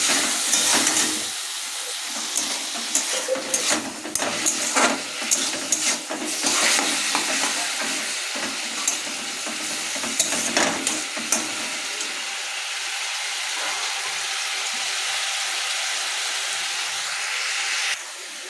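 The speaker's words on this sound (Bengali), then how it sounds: "তো বন্ধুরা মাংসটা কষানোর পর একটু জল দিয়ে দিলাম সেদ্ধ হওয়ার জন্য" Meat sautéed in a pan sizzles loudly while a spoon scrapes and knocks in irregular bursts for the first twelve seconds, then settles into a smoother, steady steamy hiss with little stirring.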